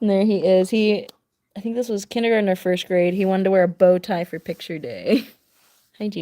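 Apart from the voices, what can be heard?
No everyday noise stands out behind the speech.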